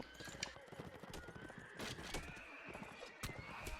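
A horse whinnies amid clattering hooves during a cavalry clash in a multiplayer video game battle, mixed with busy combat noise and faint voices in the background.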